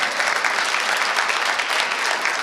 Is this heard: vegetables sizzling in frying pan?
no